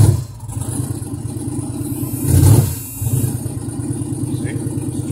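A twin-turbo 1986 Buick Regal engine idles with a steady low rumble, then revs briefly around the middle and settles back to idle; it sounds close and continuous, with a voice heard faintly over it.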